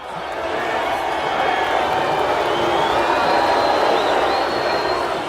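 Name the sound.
hostile crowd noise in Rocky IV as fighter enters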